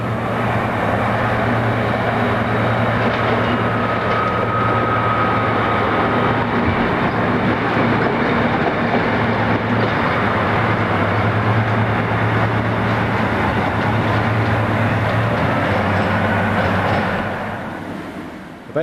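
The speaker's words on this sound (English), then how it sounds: "a relatively rare view of a mainline diesel at Selzthal" Austrian mainline diesel locomotive 2043-029 idling at Selzthal station, a steady loud low engine drone with a constant hum, holding level before fading slightly at the end.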